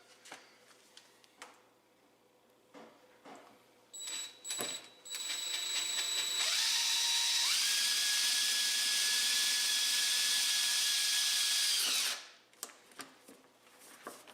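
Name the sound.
power drill drilling through marks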